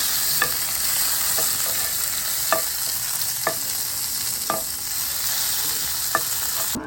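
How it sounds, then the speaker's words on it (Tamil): Dried chillies and curry leaves frying in oil in a pan, a loud, steady crackling sizzle with a spoon scraping through every second or so, close up and with no one speaking. "சித்தமிளகாய் கருவேப்பிலையும் ஒன்றா போடுவோம். இதை நல்லா முருகை வறுப்போம்"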